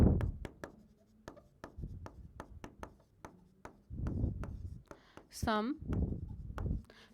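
Writing on a board during a Class 11 physics lesson on units and measurements: quick, rhythmic tapping strokes, close and crisp, interleaved with a teacher speaking.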